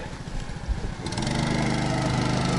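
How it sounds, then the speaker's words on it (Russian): A four-stroke outboard motor drives a boat across high spring floodwater on a hunting trip. It drones close and loud, then revs up and settles into a steady, higher hum. "Четырехтактный мотор. Экономичный."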